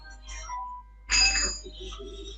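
A mobile phone ringtone chimes in brief bright tones, faint at first and then a louder burst, with a voice in the background.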